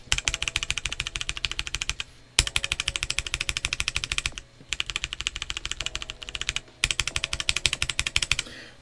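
Fast typing on a Koorui MK082 gasket-mount mechanical keyboard with lubed brown tactile switches and a PC plate, heard as close, crisp, rhythmic clacking bursts broken by short pauses, with no voices.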